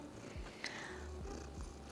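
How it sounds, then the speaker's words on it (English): A cat purrs softly right beside the microphone indoors, a low steady rumble pulsing in slow cycles for a couple of seconds with no talking over it. "If you guys hear purrs, one of the cats is like right by me."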